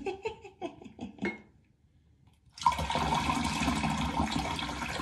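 Water is poured through plastic bath toys in a bathtub, a steady splashing and trickling stream that starts after a few soft knocks and a near-silent pause.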